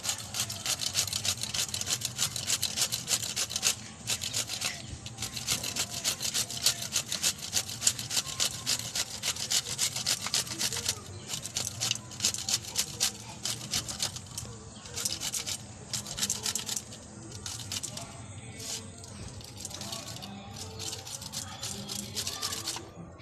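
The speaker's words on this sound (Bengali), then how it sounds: "প্রত্যেকটা পটলকে আমি এইভাবে ঘষে নেব।" A knife scrapes the skin of pointed gourds (potol) in a kitchen, producing quick repeated rasping strokes, close and fairly soft, running steadily with brief pauses and no talk.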